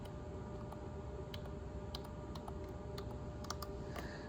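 Soft, irregular keystrokes on a PC keyboard tap out a command in a quiet room, a sparse run of light clicks over a steady low hum.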